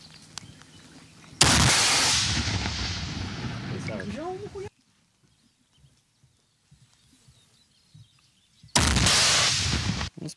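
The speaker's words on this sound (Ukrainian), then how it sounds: "армійці беруться за РПГ, в які заряджають міни калібру 82" Two loud, sustained blasts from RPG launchers loaded with 82 mm mortar rounds aimed at an enemy bunker, each roaring for several seconds, separated by a near-silent gap.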